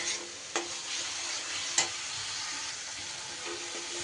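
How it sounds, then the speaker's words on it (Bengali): Spices fry with pasted tomato in a pan under a steady soft sizzle, broken by two sharp clacks of a spoon or spatula against the pan, with no talk. "মশলা কিন্তু খুব ভালো করে কষিয়ে নিতে হবে"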